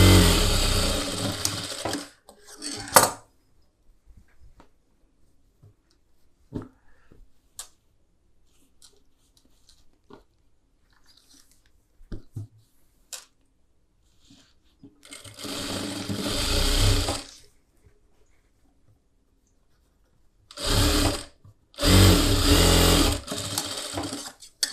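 Sewing machine stitching a collar neck blouse, running in three separate bursts of steady motor whirr with short quiet gaps and faint clicks between them, close and alone.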